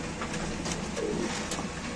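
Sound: black exhibition pigeon cooing

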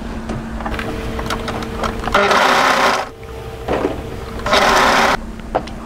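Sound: overlocker serging fabric

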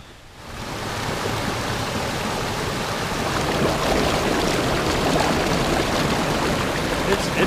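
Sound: mountain stream water rushing down a valley

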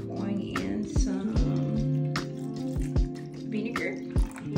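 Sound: pouring white distilled vinegar into laundry

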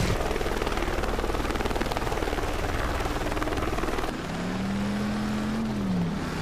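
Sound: news helicopter flying overhead in video game Driver: San Francisco

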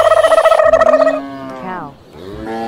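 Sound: toy cow mooing

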